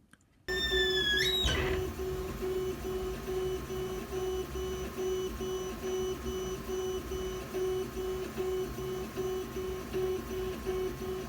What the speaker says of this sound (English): Okay, so the printer's done its thing.